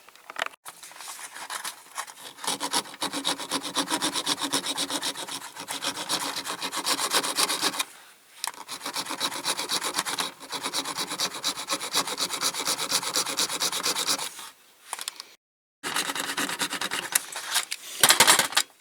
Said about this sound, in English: So I'm just going to file them flat a little bit first.